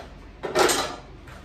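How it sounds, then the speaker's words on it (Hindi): Stirring a pre-workout meal mixture in a pan, heard as one brief scraping clatter of a utensil against the pan, close and fairly loud, with quiet before and after. "तो मैं इसको मिक्स कर रहा हूँ।"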